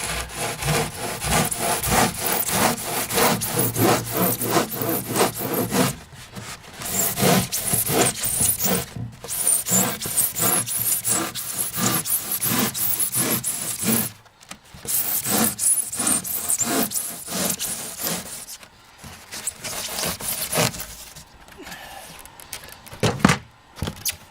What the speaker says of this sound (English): So we're now going to take a regular crosscut saw and cut out the piece of styrofoam along the line that we just drew.